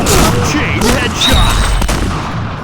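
Gunfire in the online shooter Point Blank crackles in dense, continuous bursts, loud and close, with barely a break across the short stretch.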